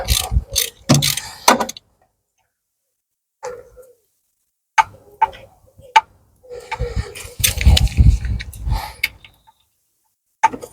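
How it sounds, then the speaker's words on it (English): A ratchet wrench takes off the front mounting bolts on a Vauxhall Corsa D 1.2, its close, rapid clicking coming in several separate bursts broken by silent pauses. "Now I'm going to take off the front of the mounting bolts"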